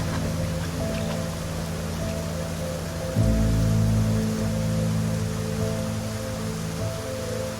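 Steady monsoon rain pouring down over a rain-fed landscape with cascading streams, a constant dense hiss with a deeper low rumble swelling midway, no voices present.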